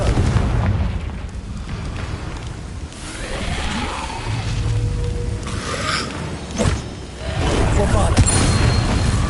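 The Confringo fire spell goes off in Hogwarts Legacy with a series of loud booming blasts and crackling bursts, layered over game ambience and effects. A sharp burst stands out near the end.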